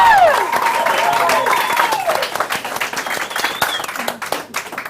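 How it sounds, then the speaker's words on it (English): An audience in a room applauds the leadership team at an awards ceremony, producing a steady, loud wash of many hands clapping, with some cheering and voices mixed in. "I just want to give a round of applause to our leadership team."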